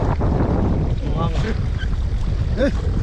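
Big sea waves heard from a small crab-fishing boat out in deep water, with constant loud wind and water rumble close to the microphone and brief voices talking over it.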